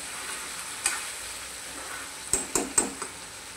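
Potatoes for sabudana khichdi fry in a pan with a soft, steady sizzle, while a utensil clinks and taps against the pan a few times, several in quick succession near the end.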